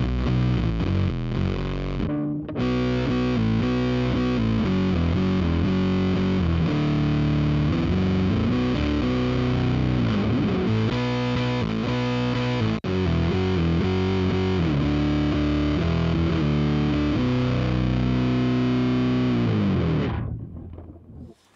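Electric guitar played through a Boss OC-5 octave pedal in polyphonic mode, thick chords with a deep added low octave, sustained and loud for about twenty seconds before stopping.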